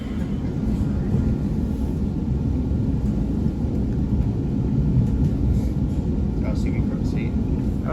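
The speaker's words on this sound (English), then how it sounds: "Anyways, here's the train. Very big train." A big commuter train bound for New York City arrives at a station on Bay Street, a loud, continuous low rumble that stays steady throughout, with a few faint higher clicks and squeaks near the end.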